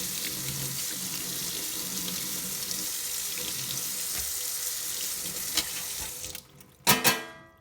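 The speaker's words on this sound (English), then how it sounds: "I'll go ahead and rinse this off" A part being rinsed under a running kitchen tap, water gushing steadily and close for several seconds before the flow cuts off, followed by a couple of clattering knocks.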